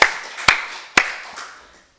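A church congregation clapping in praise during a Sunday worship service, heard as three distinct, loud, sharp claps spaced about half a second apart that fade out into quiet.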